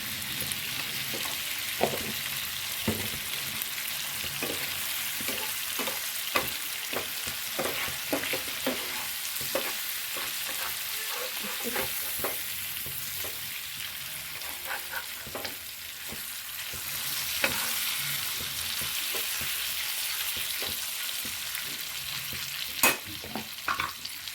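Fish pieces fry in a pan with chili powder, a steady bright sizzle running throughout, broken by frequent sharp stirring scrapes and clicks, close and moderately loud, with no voices.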